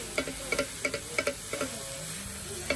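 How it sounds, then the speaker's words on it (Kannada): Spatula scraping and stirring cabbage into monjayaki batter on a hot griddle gives a run of sharp, evenly spaced clicks about twice a second over a steady soft sizzle, with no talking. "ಕ್ಯಾಬೇಜ್ನ ಫುಲ್ ಹಾಕಿ ಅದರ ಜೊತೆ ಮಿಕ್ಸ್ ಮಾಡ್ತಾರೆ"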